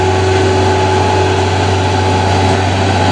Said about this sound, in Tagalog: Ang lakas ng makina